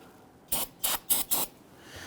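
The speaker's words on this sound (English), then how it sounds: "go ahead and use some spray solvent and clean up around the cover itself" Spray solvent is sprayed to clean around the brake master cylinder reservoir cover of a 2011-2023 Dodge Charger, giving four short, close hissing bursts in quick succession with no talk.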